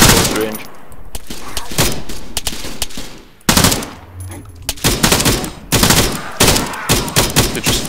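Rapid, loud bursts of automatic gunfire from weapons in the military video game ArmA, close and continuous with brief pauses, mixed with game sounds and some talking.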